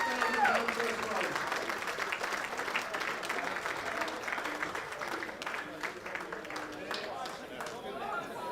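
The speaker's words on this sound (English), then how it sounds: "can I have a round of applause for the APAT show" Audience applause at a poker tournament show, a steady burst of clapping and crowd noise with voices talking over it and cheering toward the end.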